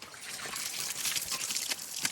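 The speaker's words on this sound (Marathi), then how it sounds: "बावडीवर थोडं अंगावर पाणी घेतोय." Water from a well is poured over a person's body, a soft, continuous splashing trickle with a few brighter gushes, fairly faint and close.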